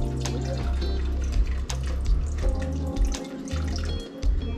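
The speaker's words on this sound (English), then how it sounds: "so I'm just gonna pour a little bit over there because it's still kind of juicy like." Alize liqueur poured into a slushy Hennessy drink, giving a close, continuous gurgling trickle with small splashes and bubbling that thin out toward the end.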